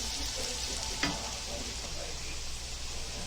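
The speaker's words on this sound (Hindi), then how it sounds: "अभी ये प्याज को अच्छा भूनेंगे" Onion frying with curry leaves in a pan makes a steady, close, hissing sizzle, with one sharp stir or scrape about a second in.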